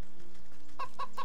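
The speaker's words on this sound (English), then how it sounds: "I love how that pheasant is making like chicken noises." A pheasant in the video game Wytchwood gives chicken-like clucks, three quick clucks near the end over a quiet game background hum.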